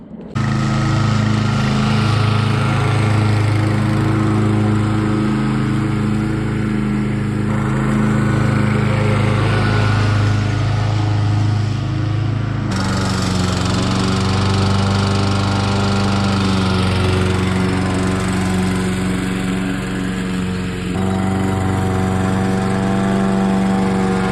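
A Toro Prostripe or Hayter 56 Pro petrol lawn mower cuts grass with a loud, continuous engine drone that holds steady throughout, its pitch shifting slightly midway as the load changes.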